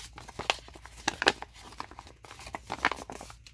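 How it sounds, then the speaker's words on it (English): Paper crumpled by hand for a distressed seaside look in a coloring craft project: close, crisp crinkling bursts in irregular clusters, with no talking. "I'm actually going to crumple it up a little bit."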